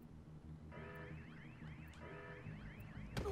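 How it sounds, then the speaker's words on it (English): An electronic alarm in Batman: Arkham City sounds in repeating warbling, siren-like sweeps over a low background hum, steady and moderately loud, then cuts off abruptly near the end. "They have an alarm? What the deuce is the alarm for? It went off and then it stopped."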